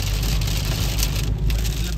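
Heavy rain pours onto a car in Perth, Australia, a loud, dense and continuous hiss of drops drumming on the body and glass, with no voices.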